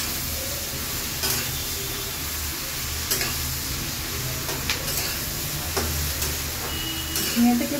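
Ridge gourd and green chillies sizzle steadily in a hot pan, a continuous close frying hiss with occasional stirring scrapes and clinks throughout, no voices.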